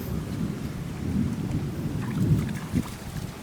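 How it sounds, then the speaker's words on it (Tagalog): Heavy rain pours steadily over a fish pond setting, a dense continuous hiss with low, deep rumbles of thunder rolling underneath and swelling briefly toward the end. "Kinabayan pa ng malakas na ulan."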